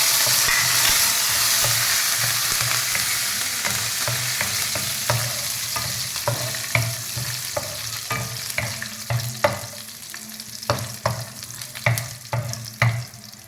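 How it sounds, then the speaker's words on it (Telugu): Chana dal and green chilies fry in hot oil for a tangy tamarind rice dish, giving a steady close sizzle with repeated spoon scrapes and stirring clicks that grow more frequent toward the end; no one speaks. "వేగిన తర్వాత శనగాళ్ళు కొంచెం ఎర్ర కానివ్వండి వెయిట్ చేద్దాం"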